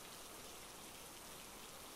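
Steady, even rain falls in a continuous soft hiss, close and constant without any break or voices.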